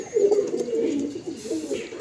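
Pigeons in a home loft give soft, throaty coos in a few rising and falling phrases, close and moderately loud, with no voices over them.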